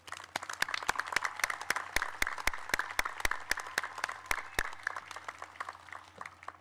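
Audience applause at a 2022 high school graduation ceremony, a steady run of sharp, distinct claps over a soft crowd wash, lasting several seconds without talk.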